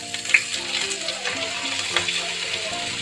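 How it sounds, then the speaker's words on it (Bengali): Leafy greens hit a wok of hot oil tempered with dried red chilies, five-spice and green chilies, giving a steady close sizzle and hiss with faint clattering. "শুকনো লঙ্কা 5 ফোড়ন দিয়ে, কাঁচা লঙ্কা দিয়ে তার মধ্যে শাকটা ঢেলে দিলাম"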